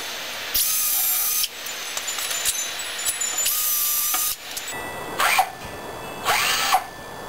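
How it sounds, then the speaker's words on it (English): A power drill whirs in several short bursts, driving screws into wood with rising whines and pauses between, close and loud. "a pre-drill, some screw holes, and then mount the screws"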